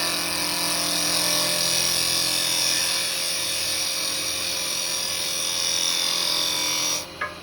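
A carbide chisel cuts a small lidded Japanese box on a spinning wood lathe, giving a loud, steady, high whirring scrape that runs unbroken until it stops abruptly near the end.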